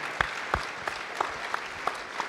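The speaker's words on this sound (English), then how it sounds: "Please give yourselves a big round of applause." A few people at an award ceremony clap in a steady, evenly spaced rhythm, each clap distinct and moderately loud over a low room murmur.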